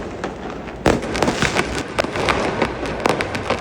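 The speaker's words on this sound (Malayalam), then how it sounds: "ഇന്നലെ ദീപാവലി ആയതുകൊണ്ട് തന്നെ അവിടെ നിന്നും ഫുള്ള് ഫയർ വർക്കിൻ്റെ സൗണ്ടുകളായിരുന്നു." Diwali fireworks going off in the distance, a sharp bang followed by a string of irregular crackling pops over a continuous rumbling background, with no talking.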